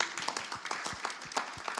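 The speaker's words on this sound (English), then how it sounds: "Please clap for them." A small indoor audience at a talk on childhood trauma and addictions claps for Rose Trevor Baptist, the individual hand claps close and distinct in an uneven, lively patter.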